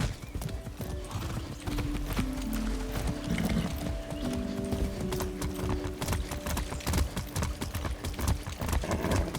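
Rapid hoofbeats clip-clop steadily as a horse trots along in Far Cry 6, with a brief whinny and low rumbling background, fairly close and continuous throughout.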